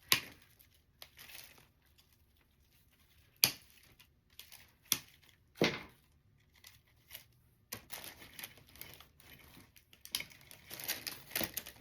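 Scissors snip and crinkle decorative picks and ribbon for a St. Patrick's Day grapevine wreath, in sparse, close bursts of crisp cutting and rustling separated by quiet gaps, growing busier toward the end.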